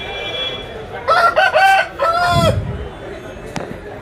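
Native country roosters at a rural weekly poultry market in Vizianagaram district, with one loud, close crow of several stepped notes, followed by lower clucking and faint voices behind.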